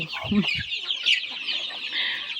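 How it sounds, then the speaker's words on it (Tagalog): A large flock of native and Red Island chickens on a farm, clucking steadily and close by with overlapping calls, and a few louder squawks standing out from the flock noise. "Ilang daan na kaya itong mga manok na to."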